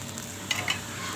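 Spatula stirring through an Acehnese fish stir-fry with curry leaves in a hot pan, with soft sizzling underneath and a couple of brief scraping strokes.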